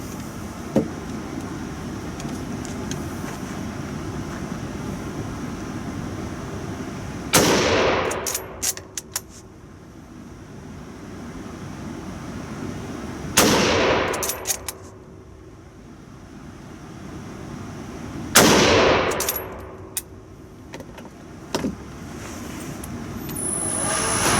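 Three sharp, loud gunshots from a .303 Lee Enfield No.5 Jungle Carbine rifle, spaced about six seconds apart, each with a ringing echo that fades over a second, against a steady outdoor background.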